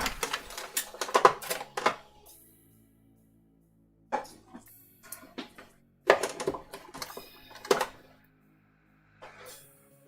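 A sewing machine stitches a waistcoat in short, rapid bursts of mechanical clatter separated by pauses, close and clear.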